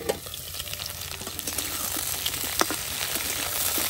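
Pumpkin sabzi frying in a pan, a steady close sizzle with scraping stirring strokes and occasional spatula taps, no talking.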